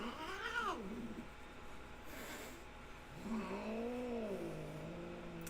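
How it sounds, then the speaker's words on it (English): A house cat named Reba yowls in two drawn-out, wavering wails separated by a short pause, faint and indoors over a low background hum. "Is that a cat?"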